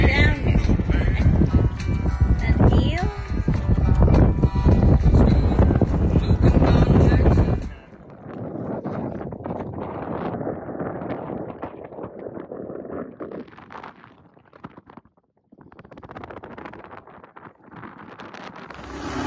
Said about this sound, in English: So we're out here on a windy day and we're both standing.